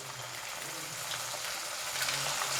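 Chicken pieces coated in bread crumbs fry in very hot oil, giving a faint, even hiss and bubbling that holds steady throughout without any voices.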